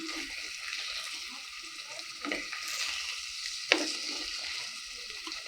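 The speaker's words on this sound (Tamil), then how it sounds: "நல்லா மிக்ஸ் பண்ணி விட்டுடலாம்." Egg fry gravy, nearly dried out, being mixed in a pan, giving a soft sizzle with occasional spatula scrapes and one sharp clink, fairly quiet and without speech.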